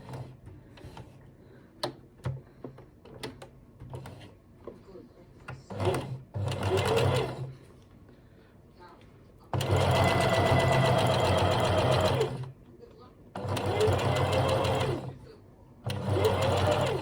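A sewing machine stitches fabric in several bursts of rapid, even whirring, some short and some sustained, with pauses between them. A voice talks quietly during the quieter stretches.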